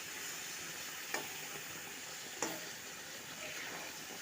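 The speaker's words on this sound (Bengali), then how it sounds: "তো এই মশলাগুলো দেওয়ার পরে আমি আবারও 1 মিনিট এইভাবে একটু হালকা নাড়াচাড়া করে নিয়ে নেব" Spices stirred in a hot pan with ghee for star fruit (kamranga) chutney give a steady, quiet sizzle, with two sharp spoon taps against the pan.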